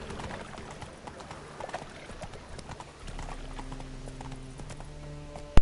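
Hooves of Roach, the horse in Witcher 3, clip-clop steadily as it runs, a soft continuous patter of game hoofbeats with a sharper knock at the very end.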